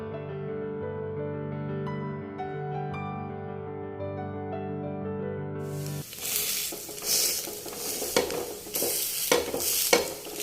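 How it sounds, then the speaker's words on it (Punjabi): Soya cutlets fry in a pan: a sustained tonal drone first, then sizzling and scraping bursts as the patties are turned and pressed, close and moderately loud with irregular clatter. "ਇਸ ਤਰੀਕੇ ਨਾਲ ਆਪਾਂ ਚੰਗੀ ਤਰ੍ਹਾਂ ਉਲਟ-ਪੁਲਟ ਕਰਕੇ ਸੇਕ ਲਾਂਗੇ"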